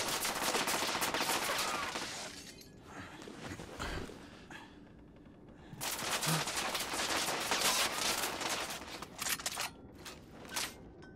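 Gunfire from the video game The Order: 1886, with dense bursts of shots and rapid automatic fire that come in waves with brief lulls, loud and close throughout the battle.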